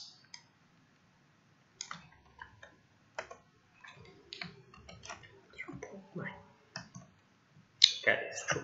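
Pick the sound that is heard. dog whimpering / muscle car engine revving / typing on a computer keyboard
typing on a computer keyboard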